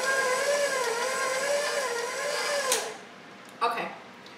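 A stand mixer on its stir setting churns chocolate chip cookie dough with a steady, close whirring hum that winds down after a few seconds, followed by a brief clatter, while someone talks over it.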